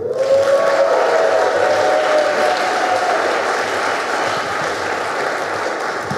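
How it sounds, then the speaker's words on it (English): A large audience at the A Night with the Stars event applauds executive director Gail Gilman with loud, sustained clapping. A steady tonal whine sits under the applause early on, then fades as the clapping continues. "please give a huge round of applause for still the executive director"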